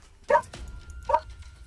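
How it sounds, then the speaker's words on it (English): Dog giving two short, sharp barks spaced under a second apart, fairly close and clear over a quiet background. "How loud could that dog be?"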